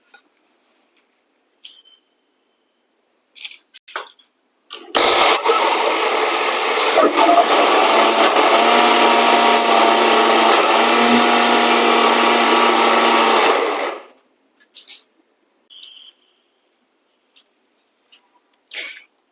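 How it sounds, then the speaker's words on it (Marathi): Kitchen mixer grinder grinding chana dal dry without water, a loud steady whirring roar lasting about nine seconds, with faint clinks and handling noises before and after. "आता मी ही मिक्सर मधनं फिरून घेणार आहे."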